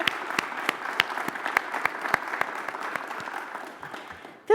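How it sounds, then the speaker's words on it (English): Audience at a school district convocation claps in a steady, fairly close round of applause with distinct individual claps, fading out near the end. "And I think that deserves a round of applause as well."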